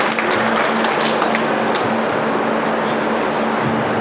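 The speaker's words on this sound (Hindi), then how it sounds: "जितने पत्रकार साथी हैं इनके लिए भी एक बार जोरदार तालियाँ बजा" A crowd at a political rally claps loudly and continuously, a dense crackling wash of many hands sustained evenly from start to finish, with a faint steady hum underneath.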